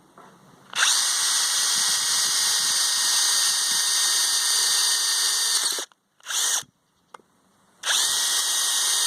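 A Bosch GSR12V-35FC brushless cordless drill bores into hollow brick without hammer action, giving a loud, steady, close whine for about five seconds. It cuts out, gives a short burst, pauses, then spins up again.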